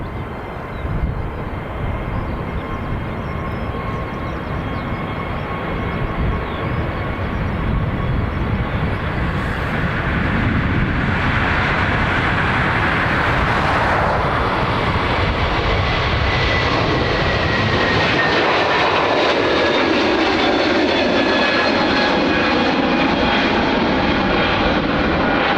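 JetBlue passenger jet at Dublin Airport, a loud sustained engine roar that builds and shifts in pitch as the aircraft moves past, heard without talk for the whole stretch.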